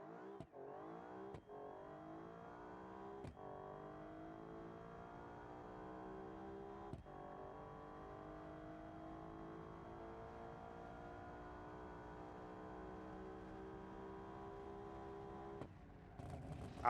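Turbocharged V12 sports car engine revving steadily and loudly for a long stretch, with a few sharp clicks and a final throttle blip at the end, no talk.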